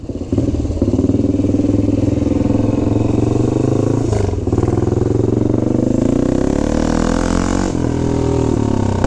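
A 1970 BSA Victor Special B44VS 441 single-cylinder motorcycle running close by, a loud, continuous thumping engine note that swells and eases slightly as the throttle changes.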